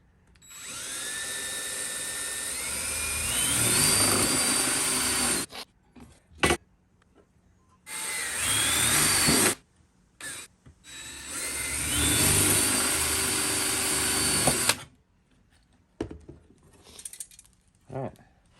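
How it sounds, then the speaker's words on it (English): Power drill boring four holes through wooden blocks on a workbench, with a board beneath; three long loud whining runs with rising pitch, each stopping abruptly, separated by short gaps with brief clatter and light handling noises. "4 holes drilled."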